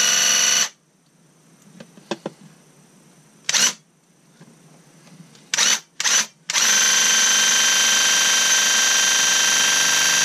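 A Graco Ultra cordless handheld airless paint sprayer, being cleaned, fires several short whining bursts separated by quiet gaps, then runs as one loud continuous hiss and whine to the end.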